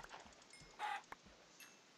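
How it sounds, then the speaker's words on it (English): A chicken in Minecraft gives a short, faint cluck in the middle of a quiet scene, along with soft footsteps and a few small clicks. "Actually kill this chicken and get some food."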